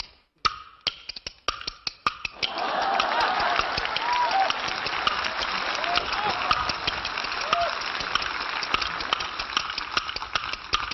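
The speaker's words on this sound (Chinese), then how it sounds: "这要掌声啊！" An audience at a comedy sketch show bursts into sustained applause after a few sharp clapper-board clicks, the clapping steady and fairly close, with a voice faintly over it.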